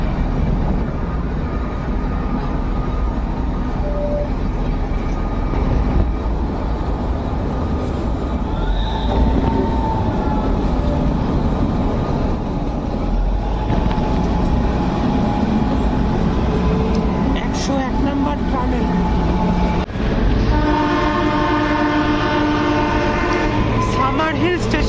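The Kalka to Shimla toy train, the Shivalik Deluxe Express, runs steadily on its mountain narrow-gauge line with continuous wheel rumble and rattling carriages, occasional squeals and a horn-like tone near the end, with faint talk in the background.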